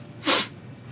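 A single sharp sneeze bursts out close and loud from a character in The Office, brief and breathy, over a faint room background with no talk.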